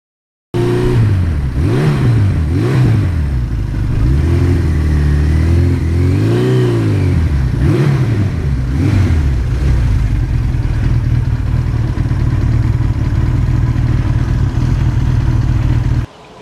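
A 1982 Suzuki GS1100E motorcycle engine revs up and down repeatedly near the listener, loud and steady, with rising and falling pitch sweeps before settling into a constant drone.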